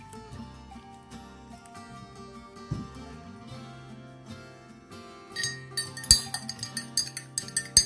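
A spoon stirs hot tea with a sachet of Antangin herbal remedy mixed in, giving light clinks and taps against the glass that grow denser and brighter toward the end, with no talking.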